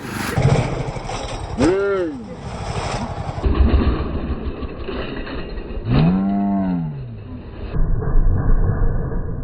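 A custom 212cc Hemi moped engine runs in loud, uneven bursts, revving and rattling mechanically with a couple of rising-and-falling swoops, while people talk over it close by.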